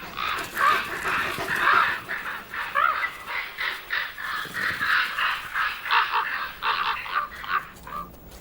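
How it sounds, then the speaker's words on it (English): Ravens give harsh, repeated caws in a dense, relentless chorus, loud and close, around a wolf and vultures at a carcass in the wild Balkans. "The vultures give up, but the ravens are relentless."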